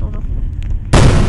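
A sudden loud blast erupts in the video game AMGUS and carries on as a dense roar after a moment of quieter background sound with faint voices.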